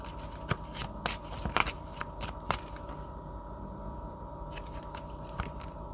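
Tarot cards are shuffled and handled at close range, with brisk papery snaps and riffles clustered in the first few seconds, then sparser flicks over a low background hum.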